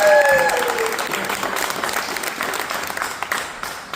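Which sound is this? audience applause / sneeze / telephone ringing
audience applause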